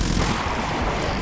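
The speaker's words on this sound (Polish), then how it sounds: "ten potwór tutaj, boss, został zastąpiony przez o wiele silniejszą wersję, która strzela teraz BFG" Heavy, sustained roaring blast from the boss firing the BFG in Doom, level E3M8 Dis, a dense loud rumble filling the whole moment with no pause or voice.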